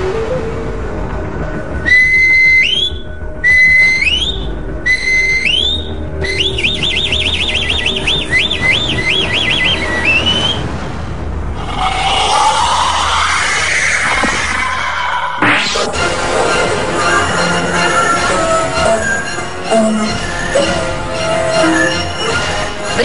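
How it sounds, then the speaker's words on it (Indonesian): An Aztec death whistle is blown in several short shrieking bursts, then a longer warbling wail that dissolves into a harsh, noisy scream, loud and close with no speech. "Peluit yang berusia beberapa abad ini disebut Roberto sebagai Whistlers of Death atau"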